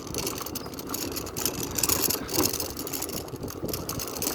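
Vehicle engine running steadily while driving on a road near Namamalai hill in Salem, a continuous mid-pitched hum with road and wind noise, fairly close and unbroken, with no talk.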